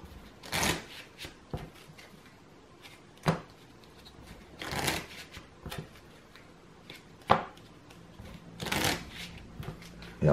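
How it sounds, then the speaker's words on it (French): Deck of game cards being shuffled, heard as several short riffling bursts spread apart with quiet gaps between, close but soft. "je mélange la pile de défausse de rencontre dans le deck de rencontre"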